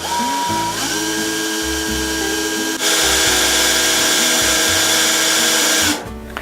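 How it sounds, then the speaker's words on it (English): A power drill whirs steadily at close range with a faint metallic whine, winding wire into a spring, speeding up partway through, then winds down at the end. "And I use this drill"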